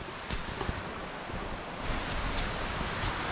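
A clear river flows outdoors with a steady, broad rush of water, wind-like and moderately loud, with a slight swell in the second half and no voices.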